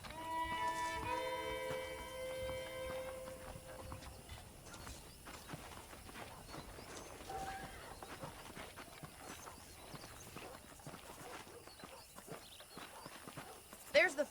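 Steady clip-clop of horse hooves in the video game Red Dead Redemption plods along under talking voices, with a brief musical jingle at the start.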